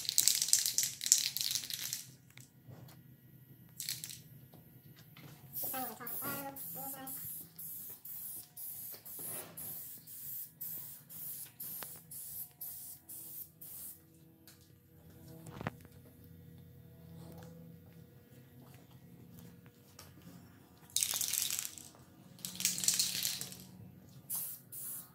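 Aerosol spray can hissing in short, repeated bursts while painting an arcade coin door, close by, with faint rattling and handling noises between the sprays.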